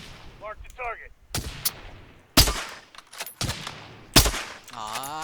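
Gunfire in a shooter video game, several loud sharp shots and bursts in quick succession, mixed with a player's excited voice talking and exclaiming.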